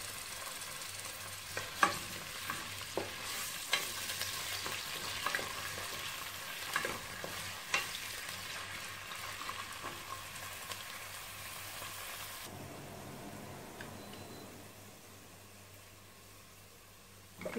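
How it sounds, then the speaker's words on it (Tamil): Sliced large onions fry in hot oil until golden brown for mutton biryani. A continuous close sizzle is broken by scraping stirs, then drops to a quieter hiss near the end, with no talking. "எண்ணெயில் முதல்ல கட் பண்ணி வச்ச வெங்காயத்தை, பெரிய வெங்காயத்தை நல்ல கோல்டன் ப்ரௌனுக்கு வறுத்து எடுத்துக்கணும்."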